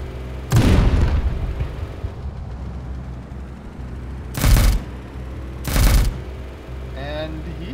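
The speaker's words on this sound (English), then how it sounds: "There's some cool explosions!" Three heavy booming explosions from a video game, each a loud, short blast with rumbling tail, spaced apart over quieter background noise.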